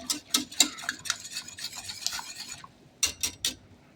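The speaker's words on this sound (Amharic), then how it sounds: "ከዛ እንደዚህ ስኳሩን እናዋህዳለን ማለት ነው።" A spoon scrapes and clinks rhythmically around a bowl while sugar is stirred into a jelly mixture, with brisk repeated strokes, a short pause, and a few more strokes, close and clear with no talk.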